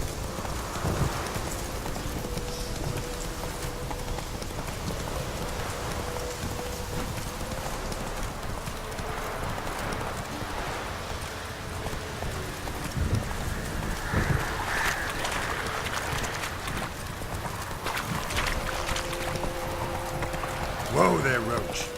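Horse hooves clip-clop steadily in a video game as the rider guides a horse named Roach, the footfalls running under continuous background noise, ambient wind-like hiss and occasional talk.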